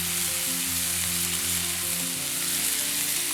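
Garlic and rosemary sizzle loudly in a hot pan, close by, with a dense, continuous frying crackle and no voices.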